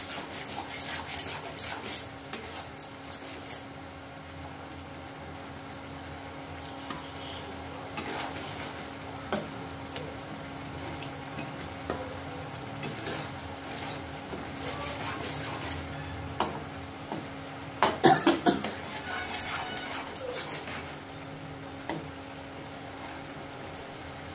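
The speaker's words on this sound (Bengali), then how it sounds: "ভালো করে কষে নেব" Spice paste for chicken kosha being stir-fried in a pan, soft sizzling and intermittent scraping and clinking of a spoon against the pan, with a dog whimpering faintly at times nearby and no talk.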